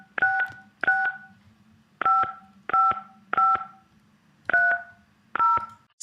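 Telephone keypad touch-tones played back from a WAV file: eight short two-note beeps in an uneven sequence, each clear and loud over a faint low hum, with no voices.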